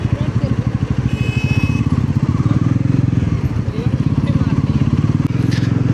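A Royal Enfield Bullet rides along in third gear, its single-cylinder engine thumping in a loud, even, rapid beat close to the listener.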